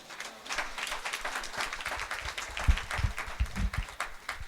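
A church congregation claps and cheers loudly for Jesus Christ, with steady sustained applause building throughout, mixed with scattered shouts in a large room.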